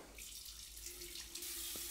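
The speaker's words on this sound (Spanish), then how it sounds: "me lavo la cara con mucha agua" Water runs steadily from a bathroom tap while someone washes their face, a constant close hiss throughout with no talking.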